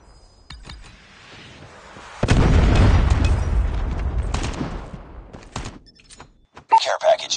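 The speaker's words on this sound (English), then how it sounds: "Predator missile inbound." A Predator missile strike in Call of Duty Mobile lands as a sudden loud, close explosion that rumbles for a few seconds and then fades, with clinks and scattered shots following. Game voice chatter plays through it.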